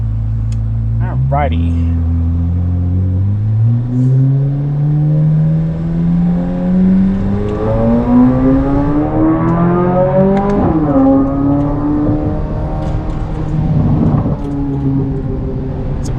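A Corvette C8 Z06 fitted with a Soler 91mm throttle body pulls away and accelerates, its engine note climbing steadily through a gear change and then settling, loud and close from inside the car, with a brief spoken remark at the start.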